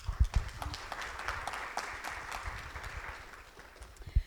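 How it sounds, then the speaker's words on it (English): Applause from an audience at a bookstore and cultural center in Lithonia welcoming a speaker, a fairly steady patter of clapping with a few sharper close claps near the start and end. "Please welcome and give a warm round of applause for Adigun"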